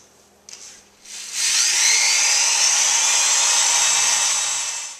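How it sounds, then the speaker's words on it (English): An electric drill whirs steadily and loudly after a couple of short starts, boring a hole through a marked spot on a homemade pot rack, then tapering slightly near the end. "I'm going to drill straight through a nice little hole right in the middle there of each of these markers."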